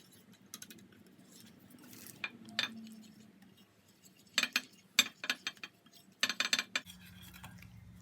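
A spoon clinks and scrapes against a bowl while fish batter is stirred together with cornflour, quick irregular metallic taps in bursts, close and fairly quiet.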